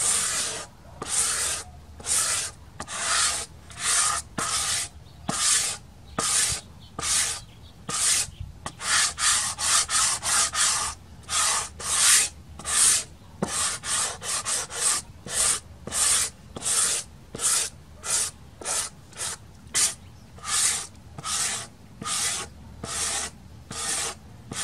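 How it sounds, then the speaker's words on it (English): Fine sandpaper, maybe 220 grit, rubs lightly over a fiberglass motorcycle tank mold in a steady rhythm of short, close, scratchy back-and-forth strokes with brief pauses between them. "and just lightly sanding."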